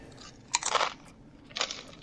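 A crunchy snack is chewed close to the microphone, two bursts of loud crackling crunches about a second apart against a quiet background.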